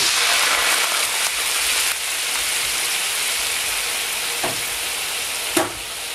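Steady loud sizzling and crackling of red wine hitting a hot pan, continuous throughout, with a couple of faint clinks.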